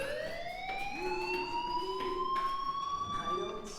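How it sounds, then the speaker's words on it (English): A video game fire alarm wails, its tone slowly rising in pitch, sustained and steady, with faint talk underneath. "Hey, do you hear that fire alarm?"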